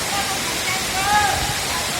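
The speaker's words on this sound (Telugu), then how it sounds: "ఇక్కడ తాపాల వద్ద ఉన్నటువంటి జలపాతం ఎంతో అద్భుతంగా ఉంది" A waterfall at Thapala in Telangana pours between two hills, producing a steady, loud broadband rush that continues unbroken. A faint tonal sound rises briefly over the roar.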